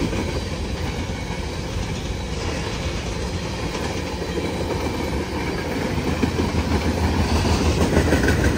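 A freight train rolls past at close range, a loud continuous rumble of wheels and railcars with clickety-clack and faint wheel squeal, growing slightly stronger toward the end.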